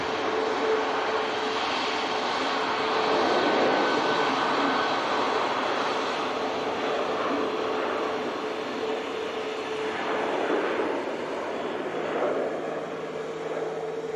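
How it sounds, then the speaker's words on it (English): A Ryanair jet at Manchester Airport rolls for takeoff in thick fog, a steady, broad engine roar held for the whole stretch and heard from a distance, with no talk over it. "another Ryanair on the departure roll"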